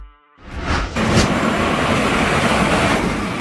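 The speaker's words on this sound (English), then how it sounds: "An intercity train is a type of train service that connects cities or major urban areas." Intercity passenger train rushing past, a loud swell that rises in under a second and settles into a steady broad roar, heard alone without voices.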